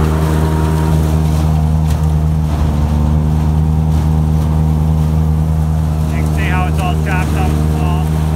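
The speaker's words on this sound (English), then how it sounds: "This tractor is running the wagon," A tractor engine drones loudly and steadily with a low, constant hum while running a wagon unloading cow feed, with faint talk briefly audible near the end.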